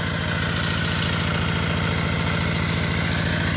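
A 30-year-old Kubota ET80 single-cylinder diesel engine drives a long-tail water pump for field irrigation. It runs steadily and loudly up close with an even, fast chugging throb and no voices.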